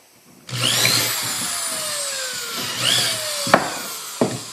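A power drill whirs up and bores starter holes into chicken coop wood twice, each run rising in pitch, followed by a couple of sharp knocks.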